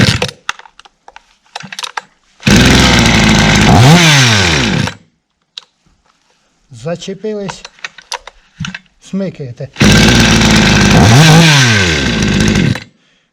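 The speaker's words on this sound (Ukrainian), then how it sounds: "Пилка працює, пилка буде продаватися." A Chinese-made gasoline chainsaw, just back from a major overhaul, starts and runs loudly in two bursts of a few seconds each, with short speech and handling clicks in the quiet between.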